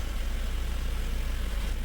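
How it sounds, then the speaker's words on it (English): A Mercedes-Benz engine, from the W124, R129, W202 or W201 era, idles steadily close by with a constant low rumble and even vibration, and no one speaks. "Let's shut off the engine"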